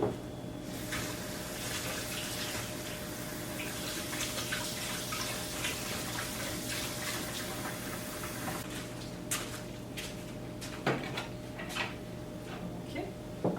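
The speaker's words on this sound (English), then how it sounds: "So we're gonna add some water to this," Water poured into a bowl for bannock dough, a steady low trickle in a quiet kitchen, followed by a few small knocks and drips near the end.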